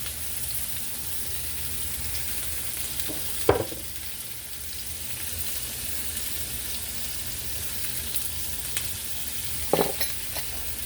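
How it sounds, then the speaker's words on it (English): Chicken sautés in a pan for a honey chicken dish with soy sauce, a steady loud sizzle filling the clip, broken by a couple of brief stirring clatters, with no talk. "We want to let this saute a little bit more."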